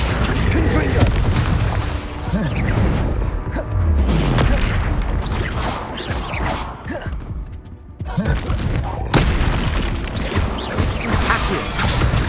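Confringo spells in Hogwarts Legacy set off repeated loud booming blasts and crashes amid dense game action, with a voice calling out spell names over the explosions.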